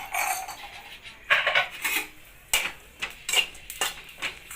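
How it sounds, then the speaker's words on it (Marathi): Roasted chillies and garlic pounded in a glass, giving a series of sharp, irregular knocks and clinks at close range with short pauses between strikes, and no talking. "आता मी हे सगळं गिलासामध्ये टाकून कुटणार आहे."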